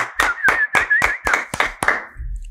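About seven brisk, evenly spaced handclaps ring out on a podcast set, crisp and close, ending in a short pause with no voices over them.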